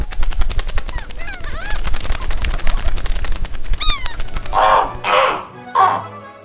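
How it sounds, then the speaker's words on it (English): Foley of birds flying: harsh crow-like caws and quick chirps over a dense fluttering rattle, ending in a few separate bursts of wing flaps. "Birds flying."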